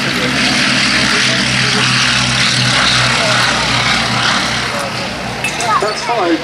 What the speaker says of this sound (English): the very distinctive form of the Westland Lysander 3A, getting airborne in an extremely short distance off the ground